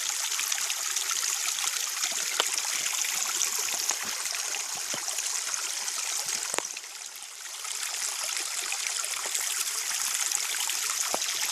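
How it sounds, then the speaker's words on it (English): Mountain spring water runs out of a hillside in a steady, close, bright trickle and gurgle that barely varies for over ten seconds, with no voices. "I followed it up to the spring. See it coming right out of the mountain there."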